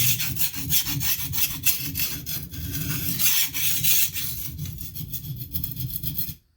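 A steel blade rasps back and forth over a hard Arkansas sharpening stone, giving a loud, close, gritty grinding with steady repeated strokes and no talk.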